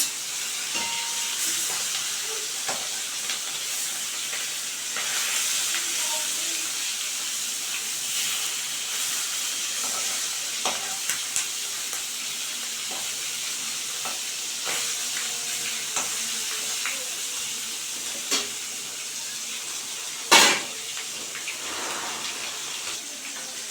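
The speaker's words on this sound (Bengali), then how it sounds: "মাছগুলিতে ডিম হয়েছে একসঙ্গে আমি ভাজার জন্য দিয়ে দিলাম" Small whole fish full of roe frying together in hot oil, a loud, dense, steady sizzle and hiss lasting throughout, with occasional sharp pops and one clear clatter near the end, close up, no speech.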